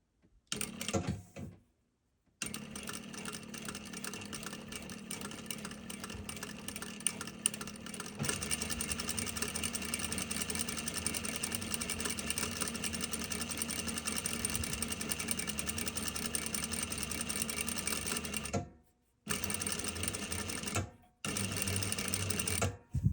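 A sewing machine stitches a flat felled seam in fabric, running in a long continuous mechanical whir with a rapid needle rhythm, close and steady, with brief stops near the start and end.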